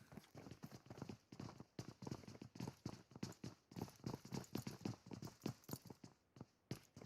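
Rapid, rhythmic footsteps from a character in the mobile battle-royale game PUBG Mobile during a competitive scrim match, a steady, close patter of steps that runs through the whole stretch.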